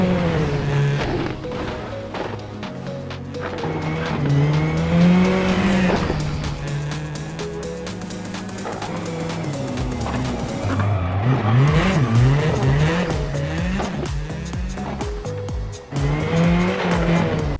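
A modern rally car races on gravel in a WRC video game, its engine revving up and down through gear changes with tyres skidding and squealing, loud and continuous throughout.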